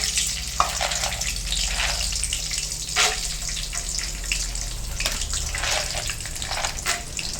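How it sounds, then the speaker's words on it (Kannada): Peanuts fry in hot oil with a steady, close, dense sizzle and bubbling crackle, broken by brief brighter hisses and pops, and no talking. "ಮೊದಲು ಶೇಂಗಾ ಫ್ರೈ ಮಾಡ್ಕೊಂಬಿಡೋಣ."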